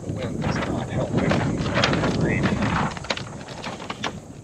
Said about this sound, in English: The wind is not helping.